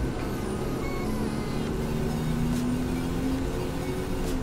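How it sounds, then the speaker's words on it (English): A car driving by outside, a steady low road rumble at moderate distance that holds through the whole stretch without other sounds on top. "And a car going by."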